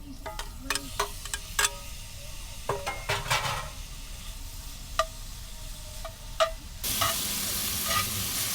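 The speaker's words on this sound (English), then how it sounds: "let's get these shrimps cooked in butter" Shrimp frying in butter in a pan during van-life cooking in Quartzsite, Arizona, with spatula scrapes and clinks over a steady sizzle that swells louder near the end, no talk.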